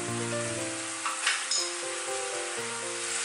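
Mushrooms cook down in white wine in a pan, a steady close sizzle and hiss that runs the whole time with a couple of brief clinks and no talk.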